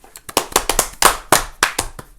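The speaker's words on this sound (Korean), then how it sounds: "박수." Brief clapping from an audience at a Korean church Bible doctrine school camp, a dozen or so sharp irregular claps over about two seconds, fairly close and loud, with no talking.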